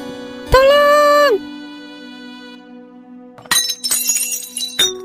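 A drinking glass drops and smashes with a sharp bright crash and tinkling fragments, loud and close, after a sustained tonal sound and before quieter noise.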